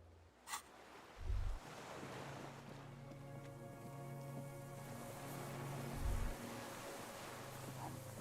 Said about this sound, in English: Water rushes below. Far down below.